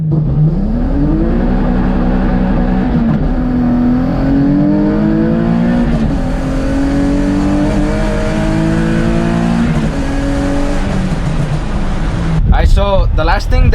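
A Nissan 350Z or Infiniti G35 revs loudly and steadily while held near 3,000 rpm on launch control, the engine note slowly rising, then ends in a sharp, rapid bark of revs.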